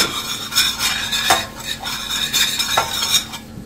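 A spoon stirs flour into melted butter for a cheese sauce in a pot, giving repeated close scraping and clinking strokes against the metal over a faint sizzle, with no voices.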